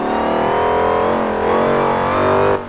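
Dodge Hellcat push-rod V8 revving hard in Forza Horizon 4, a loud, close, continuous engine roar with pitch climbing and dipping before cutting off abruptly at the end.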